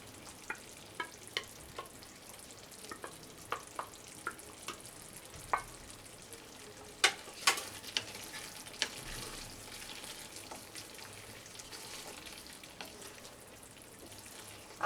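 Coconut ridge gourd fries in ghee with sugar, a low continuous sizzle broken by scattered sharp pops and spatters, close and fairly quiet.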